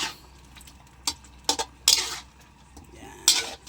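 Chicken adobo being stirred in a cooking pan, with scattered scraping clinks of a utensil against metal coming in short separate bursts over a quiet background.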